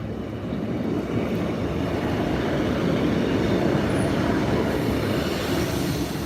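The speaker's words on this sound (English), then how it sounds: "3rd train approaching." A train approaching in Lincoln, UK: steady rumble and rolling clatter fills the whole stretch, loud and continuous, with a faint high whine near the middle and no talking.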